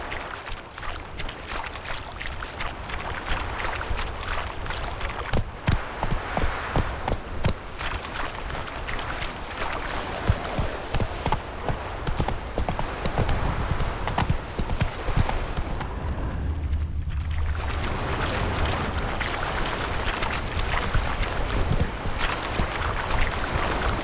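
The horse Roach gallops in The Witcher 3, a fast rhythmic clip-clop of hooves pounding steadily and close, with a brief dip in the middle.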